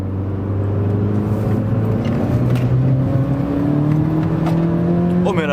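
Inside a Peugeot 206 GT with a 2.16-litre engine, the car accelerates in a loud, continuous climbing drone as the engine pitch rises steadily through the gear.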